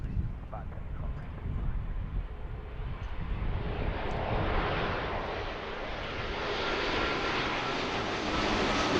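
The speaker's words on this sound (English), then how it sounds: "that's the Dreamliner coming in from London" A Boeing 787 Dreamliner lands at Philadelphia after arriving from London, its jet engine roar rising and filling the air as it passes, loud and broadband, with faint radio chatter underneath.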